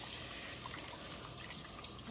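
Raw rice being washed in water for an oxtail dish, a steady wet swishing and trickling that runs without a break, close by and heard alone.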